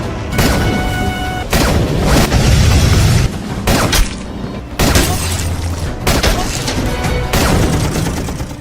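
Tanks blown up with RPGs in a war film: repeated heavy explosions and booming blasts in loud bursts separated by brief gaps, with rumbling debris and gunfire-like crackle.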